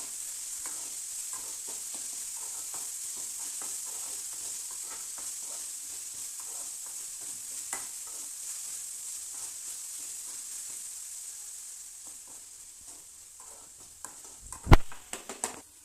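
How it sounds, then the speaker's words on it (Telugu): Onions frying with salt in a pan for onion curry, stirred with a spoon: a steady close sizzle under repeated scraping strokes, ending in a few sharper clinks against the pan. "ఇంకా దీన్ని బాగా ఇలా కలుపుకోవాలి ఫ్రెండ్స్."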